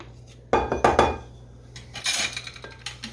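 A utensil scrapes and clinks against a pan of no-bake cookie mixture in a home kitchen, a few close metallic scrapes in two short bursts over a low steady hum.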